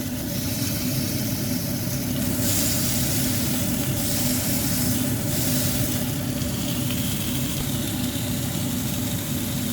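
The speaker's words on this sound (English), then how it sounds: "you turn it around and cook it on the other side till your prawns are cooked" Prawns fry in a pan with a loud, unbroken hiss that holds steady throughout, over a low rumble like a burner or extractor fan.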